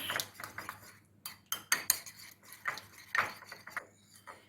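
Yogurt and egg yolk being whisked in a plate with a utensil, quick irregular scraping clinks of metal against the dish, close and fairly quiet, in short bursts with small pauses.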